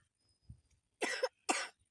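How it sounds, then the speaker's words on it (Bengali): A person gives two sharp, close coughs in quick succession after a moment of near silence, each burst short and raspy, with nothing else sounding around them. "কাশি আসতেছে।"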